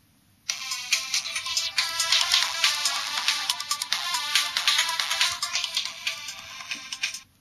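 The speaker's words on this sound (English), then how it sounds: "the phone starts ringing" A mobile phone's fake call function ringing: a bright electronic ringtone starts abruptly and keeps playing steadily for about seven seconds, loud and close, with no talking over it.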